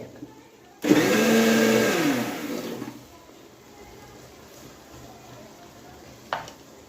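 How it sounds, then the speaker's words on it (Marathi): A mixer grinder blends curd and besan (gram flour) for kadhi in a home kitchen, a loud steady whir lasting about two seconds before winding down, followed by quiet room tone and a brief click near the end. "दही आणि बेसन मी मिक्सरला फिरून घेतले"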